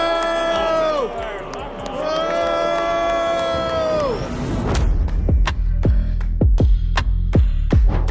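A crowd boos Boston mayor Michelle Wu in a long, swelling chorus of jeers. It then breaks into a louder, rougher crowd roar punctuated by sharp claps and bangs.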